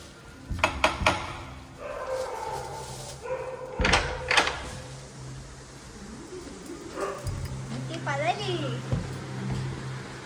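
A few sharp barks from a puppy near the start, followed by a door knock and household noises, with people talking throughout.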